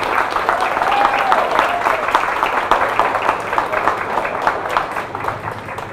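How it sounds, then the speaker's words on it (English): Audience applause for Amy and Chef Shannon, owners of the Corner Kitchen, at a Farmers Market Fresh event: steady, moderately loud clapping from a crowd that holds for several seconds, with some voices mixed in. "let's give them a big round of applause"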